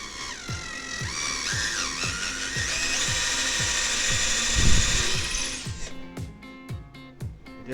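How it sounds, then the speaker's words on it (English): A power drill with a quarter-inch bit whirs steadily, its pitch rising as it bores in, then winds down and stops with a few clicking rattles at the end. "I use a quarter inch drill bit."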